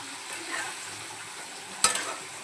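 Spiced potatoes sauté in a hot pan with a steady, soft sizzle, closely heard. A single sharp clink of a utensil against the pan stands out near the end.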